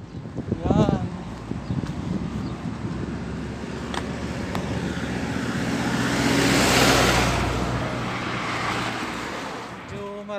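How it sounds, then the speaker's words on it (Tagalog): Road traffic on a route toward Sarawat in Saudi Arabia, a continuous rumble of cars passing that swells to a loud close whoosh midway and then fades, with brief talk at the start. "Marami-rami ngayon ang sasakyan,"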